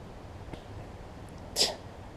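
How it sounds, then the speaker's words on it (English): A single short sneeze bursts out once over quiet background hiss, faint and a little distant. "I'm about to sneeze"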